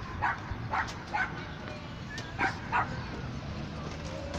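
A dog barking outdoors, about six sharp, short barks in an uneven rhythm at moderate distance, over background noise with faint voices.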